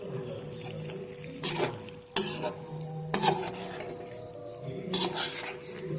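Eggs added to a simmering egg curry in a pan give a soft sizzle and bubble. A spoon stirs and scrapes against the pan in several distinct bursts, with light clinks between them.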